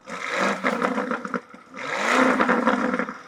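Lamborghini Urus SUV exhaust roaring loudly in two long bursts, a deep throaty rev that swells, dips briefly around the midpoint, then climbs again without any talking.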